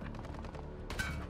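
Gunfire in a first-person shooter video game: a short, dense burst of rapid shots crackles loudly over a busy background of game sound, with no talk.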